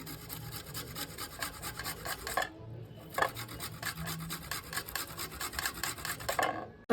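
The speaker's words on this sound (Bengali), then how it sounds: "এই যে আদাটা ঘষে দিচ্ছি আমি" Fresh ginger scraped across a grater makes rapid, rhythmic rasping strokes, close and fairly quiet, with a short pause midway and no talk.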